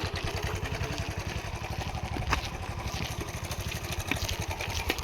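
A motorcycle engine idles close by, a steady rapid chugging pulse that holds evenly throughout with a faint clatter.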